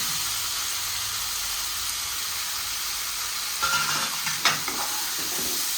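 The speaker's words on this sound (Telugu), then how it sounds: "ఇప్పుడు టమాటాలు వేసుకొని సాల్ట్ వేసుకుని" Tomatoes with salt fry in a pan for a greens and dried fish curry, a loud, even sizzle that turns into scraping stirring strokes partway through, close by and with no voices.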